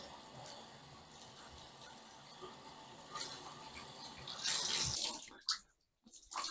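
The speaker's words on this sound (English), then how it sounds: "we have to soak this in some water and wring it out" Hot water runs from a tap to soak a dyed Ghostface Halloween shirt, starting as a faint, steady rush that grows louder and splashier, then briefly cuts out near the end.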